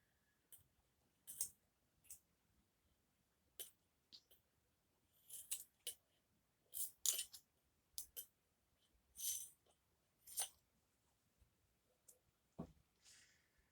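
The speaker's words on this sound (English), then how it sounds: "we're going to clean up these edges with the scissors" Scissors snip around the edges of a handmade craft bear, with quiet, irregular cuts and small clicks spaced a second or so apart, close and faint.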